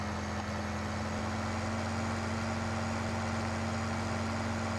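Steady tractor engine idling in Farming Simulator 15, a constant low mechanical drone with a strong hum running evenly throughout at moderate level, no voices.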